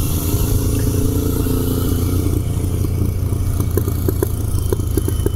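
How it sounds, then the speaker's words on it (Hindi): A Royal Enfield Continental GT 650 motorcycle engine running loud and close with a steady throbbing exhaust note, sharp popping backfire cracks bursting out in its second half. "ये जो बैक फायर दे रही है ना"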